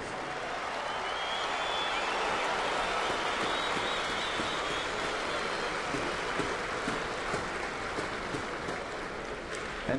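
A large stadium crowd at Yankee Stadium applauds steadily, a dense wash of clapping and cheering that holds at an even, fairly loud level throughout.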